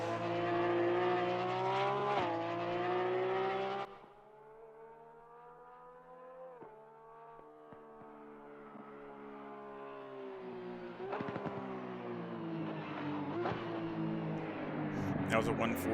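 A Porsche 911 GT3 R race car laps Kyalami in the Assetto Corsa Competizione racing game. The engine whines in steady tones, drops sharply at gear shifts and climbs again as it accelerates, while someone talks over it.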